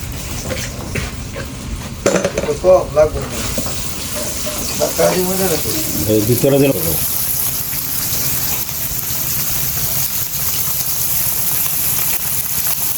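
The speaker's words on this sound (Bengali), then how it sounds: "এখন যে মাছগুলো ভাজা হচ্ছে আমাদের জন্য সেটি হচ্ছে গুতুম মাছ" Small gutum fish fry in a pan at a roadside fish hotel near Belai Bil, giving a steady hissing sizzle like rain under nearby speech, with the sizzle continuing on its own after the voices fade.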